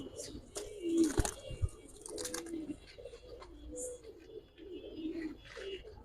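Giribaz high-flyer pigeons coo at a pigeon sale, soft low throaty calls rising and falling close by amid faint background bustle.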